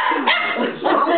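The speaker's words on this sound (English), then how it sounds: "I think she just found out she could bark." A female puppy gives a short, close, high-pitched bark, a quick yappy burst with a slight whine.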